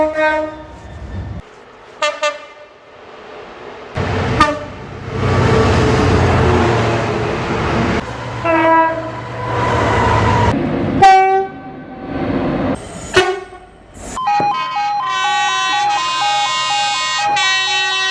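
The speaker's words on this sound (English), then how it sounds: "Another train is approaching." An approaching train sounds loud multi-tone horn blasts in repeated bursts, with rail rumble between them and a long sustained chord at the end.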